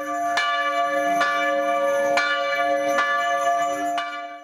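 Church bells ring out loudly on Easter, with steady repeated strokes over a dense, sustained ringing hum and no voices.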